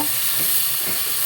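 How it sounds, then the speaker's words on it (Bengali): Chicken with cumin, garam masala, ginger-garlic paste and green chili stirred in a hot pan, a steady close sizzle with soft scraping strokes of the spoon. "এখন আমি নেড়ে দিব,"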